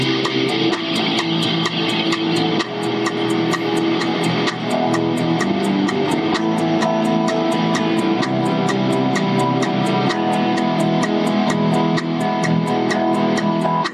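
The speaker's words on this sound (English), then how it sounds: "once you combine the bass and the guitar, it sounds a bit like this." A bass and an electric guitar play a song together in a steady, loud, continuous passage with a regular rhythmic pulse, and no voices over it.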